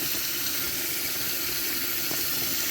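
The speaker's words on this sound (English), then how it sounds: "always wash your meat" Tap water runs steadily from a kitchen faucet onto raw chicken legs being washed in the sink, a constant close hiss with no talking.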